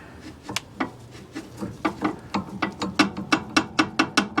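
A worn, shot idler arm bushing in the steering of a 1967 Mercury Cougar gives a rapid series of sharp clicking knocks that repeat in a quickening, fairly regular rhythm. The knocks are close and there is no talking.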